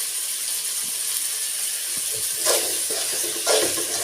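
Tomatoes sautéed in a hot pan with salt for a country chicken rasam, giving a constant loud hiss with two brief surges of sizzling and light stirring scrapes.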